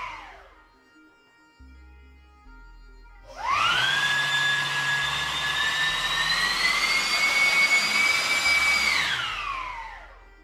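A 3D printed 100 mm electric ducted fan with dual propellers and a 1700 KV motor spools up from near silence into a loud, high whine with a rushing roar, holds steady for several seconds, then winds down.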